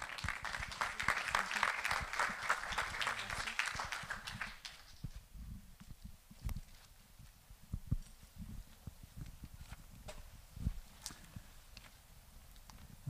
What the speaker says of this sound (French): Vous pouvez les encourager par vos applaudissements.